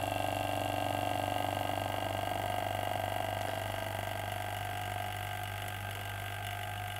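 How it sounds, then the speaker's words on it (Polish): A vacuum pump drawing air out of a glass tube gives a steady, moderately loud mechanical hum with a constant low drone that fades slightly over time, heard alone without talk. "W miarę jak wypompowujemy powietrze, to ten dźwięk, który słyszymy, jest coraz słabiej słyszalny"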